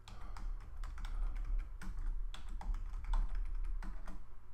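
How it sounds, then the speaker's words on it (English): Keys clatter on a computer keyboard as a password is typed, a run of quick, close, uneven clicks in bursts with no talking. "I don't even know how to type a password in."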